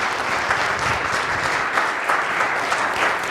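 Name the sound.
audience applause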